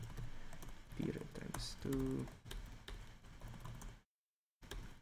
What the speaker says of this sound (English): I'll just type something like this